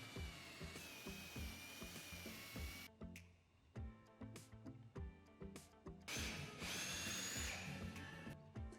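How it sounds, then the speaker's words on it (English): A power drill boring dowel holes in a wooden dresser frame, with repeated short whining bursts that start and stop in an uneven rhythm, close and moderately loud. "Once all the dowel holes were drilled,"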